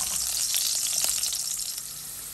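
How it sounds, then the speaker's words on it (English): Food sauteing in coconut oil in a pot for a curry lamb stew, a steady bright sizzle with faint stirring scrapes, close and continuous throughout. "We're gonna drop this in here. We're gonna saute that around."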